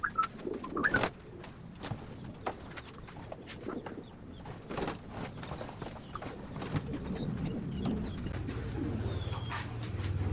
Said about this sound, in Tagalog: Ito na, nahuli na natin mga kalapatids.